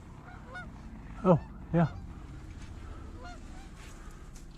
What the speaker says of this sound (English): There's a little goose in there.